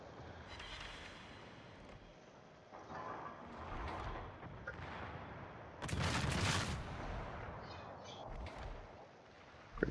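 Naval gunfire from friendly warships pounding an enemy destroyer in a naval battle game, a rolling barrage of muffled booms and cracks with a dense burst of fire midway and a steady rumble throughout.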